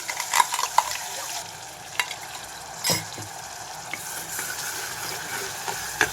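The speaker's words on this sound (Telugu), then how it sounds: "రెండు నిమిషాలు పచ్చివాసన పోయేదాకా వేయించుకుంటున్నాను." Onion paste fries in hot oil inside a small pressure cooker, a close, steady sizzle broken by scraping stirs and a few sharper pops and clinks of the spoon, with no voices.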